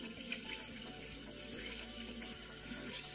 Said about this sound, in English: I guess I'll dampen the sponge.